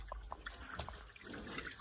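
Dirty, muddy water runs from a household tap in a low, steady trickle with faint drips and splashes over soft background hiss.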